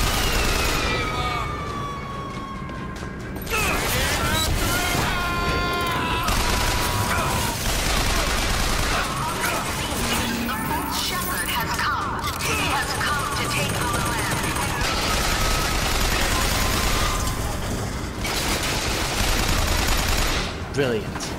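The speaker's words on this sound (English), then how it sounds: "Gentlemen, you're about to witness the power of my machine gun" Machine gun firing in the video game Bioshock, sustained rapid bursts over a loud, dense background with booms and siren-like tones, constant and close throughout.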